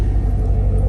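A car engine with a newly installed cam gives a brief, close, deep lumpy rumble at steady throttle.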